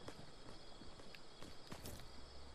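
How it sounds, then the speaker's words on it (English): Footsteps of another player in Fortnite's Minecraft-style mode, a run of quick soft steps nearly buried in dense, steady game noise. "I'm trying to listen up for their footsteps."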